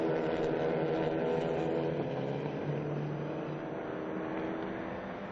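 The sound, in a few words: Clio Cup race cars passing on the circuit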